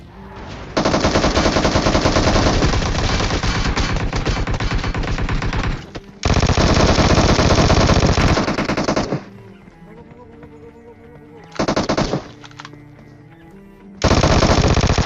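Bursts of Vector submachine gun fire in the mobile battle royale game PUBG Mobile: loud, rapid automatic volleys, two long sustained strings followed by a short burst and another sustained burst, with no talk.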